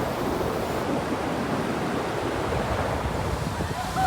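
Ocean surf on a beach as a storm rolls in, a steady loud wash of breaking waves and wind roar filling the whole stretch without letup.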